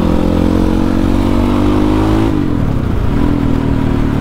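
A motorcycle with a bored-out modified exhaust revs loudly up close, holding a steady throaty drone before the pitch drops and climbs again in a second rev.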